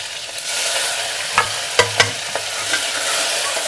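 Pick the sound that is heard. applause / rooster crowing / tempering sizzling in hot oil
tempering sizzling in hot oil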